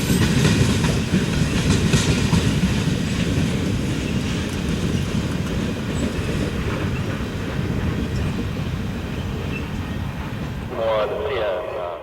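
A train rumbles steadily past Durand Union Depot in Michigan on the Canadian National Railway, a loud continuous roar with faint clatter that fades slightly toward the end.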